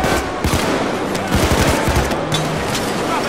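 Dense automatic gunfire during a Payday 2 diamond heist, a loud continuous fusillade of rapid shots blending into a rattling wash with no pauses.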